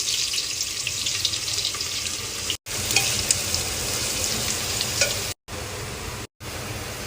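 Thinly sliced onions sizzle and crackle in hot oil inside a pressure cooker while frying for chicken biryani, a steady close hiss broken by three brief silent gaps.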